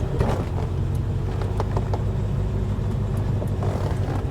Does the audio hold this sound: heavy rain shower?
no